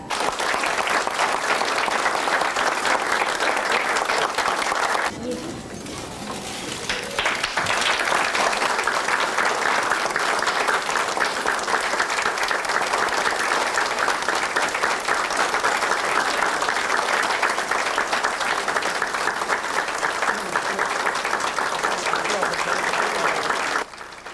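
Thunderous applause fills the room at the 1993 Korea Unification Art Exhibition opening with North, South and overseas Korean delegates. Dense clapping is loud and continuous, briefly dips, then surges back for a long sustained stretch.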